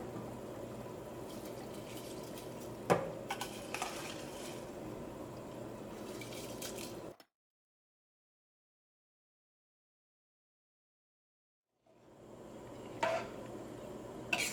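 Washed rice goes into a pot of hot salted water, with steady bubbling and hissing and a couple of brief splashy bursts. Midway there is a few seconds of total silence before the simmering resumes.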